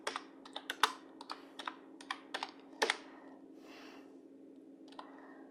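Clicky keystrokes on a computer keyboard, a quick burst of separate taps followed by a pause and a few more, close and clear with no talking.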